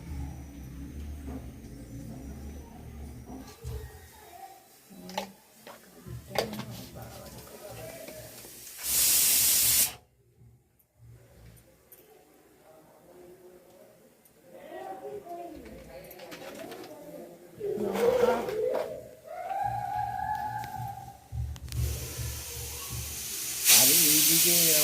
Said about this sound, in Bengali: যে আলুটা সেদ্ধ করতে বসেছে, এও সিটি মেরে মাথা খারাপ করে দিচ্ছে